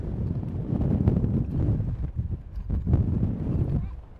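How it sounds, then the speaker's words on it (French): Strong wind buffets the microphone in continuous loud, rumbling gusts, roaring and pulsing throughout with no pause. "Il y a un vent de malade"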